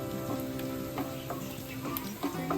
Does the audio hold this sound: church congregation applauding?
no